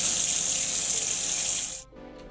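Running water from a tap pours steadily and loudly over a Philips BT3221 DuraPower trimmer blade, then stops abruptly near the end.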